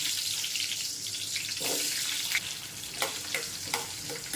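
Small shallots dropped into hot oil in a pan for a Tamil onion-garlic curry, giving a steady broadband sizzle with a few sharper crackling bursts toward the end, close and fairly loud, no talking.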